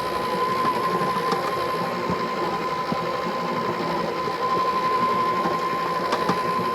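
An electric stand mixer runs steadily as it whips marshmallow buttercream for homemade Oreos, a continuous close motor whine with a constant hum and occasional light clicks.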